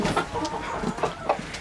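Backyard hens cluck in short, quick bursts while pecking at a pile of undercooked pasta, close and fairly busy.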